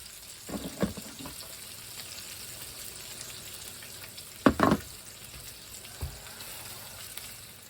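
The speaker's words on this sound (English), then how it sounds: "Keep the frying pan happening." Bacon frying in a frying pan gives a steady, moderate sizzle, with a few louder clattering bursts near the middle and a short knock near the end. No one speaks.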